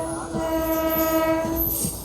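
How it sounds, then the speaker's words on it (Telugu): A train passes at the Vijayawada outer and sounds a loud, sustained horn blast that holds steady for about a second and a half and then cuts off, over a low rumble of the moving train. "ఏదో ట్రైన్ వెళ్తుంది, చూద్దాం ఏం ట్రైన్."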